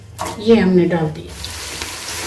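Chopped onion goes into hot mustard oil, someone speaking briefly before a steady, broad sizzling hiss settles in and continues on its own.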